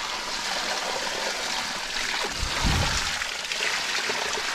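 Water pouring steadily from a garden water tank overflow pipe, a continuous close splashing and trickling flow with a brief heavier gush midway and no talking.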